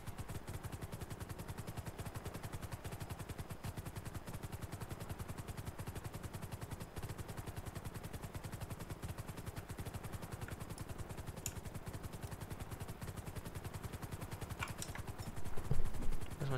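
A helicopter flying in GTA V gives a steady, dense rotor chop with a constant engine drone, running unbroken at even loudness with a brief rise in level near the end.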